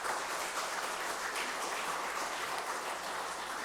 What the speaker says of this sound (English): That clapping is good